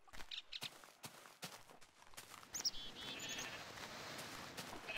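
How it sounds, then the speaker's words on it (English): Sheep bleating in the video game Minecraft with the Tekkit mod, a few short bleats amid scattered footstep-like thuds, then a steady hiss of game ambience, moderately loud with no talk. "Better not be escaping sheep."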